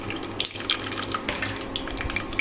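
Mustard seeds crackle in hot oil inside a pressure cooker, a steady close fizz dotted with sharp little pops scattered through the short stretch.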